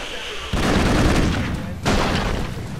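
Explosions in the Broforce action game: two loud, close booming blasts, the first sustained for over a second and a second sharp burst soon after, with talk mixed in.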